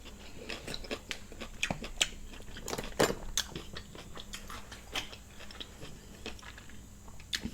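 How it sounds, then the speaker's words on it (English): Someone chews king crab legs close to the mic, with a steady series of sharp crunches, cracks and biting clicks and wet mastication sounds. No voices. "It's just you gotta be prepared to chew."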